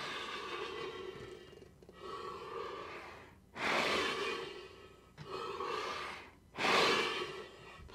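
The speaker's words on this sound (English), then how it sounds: "It's a 6-liter bag that's really useful to kind of monitoring where you're at breathing wise." Deep breaths drawn into and pushed out of a 6-liter breathing bag by a musician, heard close up as four or five long, rushing inhales and exhales that swell and fade in turn, with no talking.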